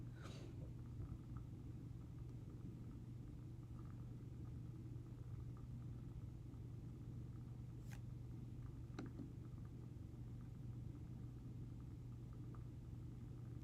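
A heavy truck rumbles past with a steady low engine drone throughout, fairly constant and moderately loud, with a couple of brief sharp clicks partway through.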